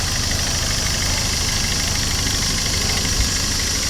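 A used Maruti Brezza's engine idles steadily with a continuous, even hum and light vibration, loud and close, without voices.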